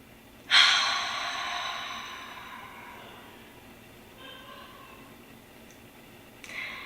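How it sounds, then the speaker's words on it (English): A single deep breath drawn in sharply and close, fading into a long, soft exhale, with a brief second intake at the end. "let's just take a deep breath together."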